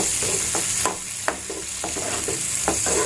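Tomato pieces dropped into hot oil with garlic, sizzling steadily with a string of sharp stirring scrapes and spatula clacks recurring roughly every half second, close and moderately loud with no talking.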